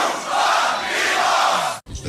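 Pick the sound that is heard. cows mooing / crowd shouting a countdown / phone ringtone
crowd shouting a countdown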